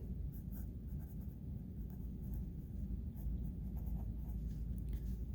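A math expression is written out by hand, with soft, close scratchy pen or marker strokes coming in short bursts over a low background rumble.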